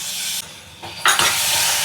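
Coarse tomato paste goes into a pan of hot oil, and the sizzle drops, then flares into a loud, sustained hiss as the paste is stirred.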